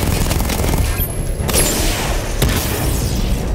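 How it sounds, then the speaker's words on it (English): A missile barrage fires in the Batman Arkham Knight video game, giving a dense roar of booming blasts and crackling bursts that stays loud throughout, with a sharp hit near the middle and another later. "Destroy targets to charge up weapon energy and activate missile barrage."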